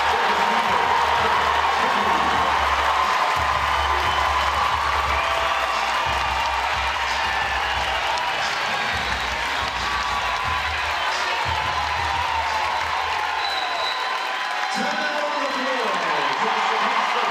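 A crowd inside a volleyball arena in Lawrence cheers and claps during the fifth set of an NCAA tournament match between Kansas and Penn State, a sustained roar under continuous commentary.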